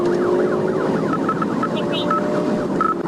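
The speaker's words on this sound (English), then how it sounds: "activated his emergency lights and sirens" A police car's wailing siren sweeps up and down continuously during a pursuit, loud and close, layered over engine and road noise.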